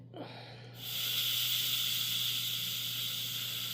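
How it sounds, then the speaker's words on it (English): A loud, steady hiss of steam bursts from an Instant Pot pressure cooker during quick release after a brief quiet moment and keeps streaming evenly, close by, over a low background hum. "That way only the steam comes out."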